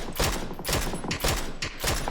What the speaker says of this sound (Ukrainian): Там во стріляється.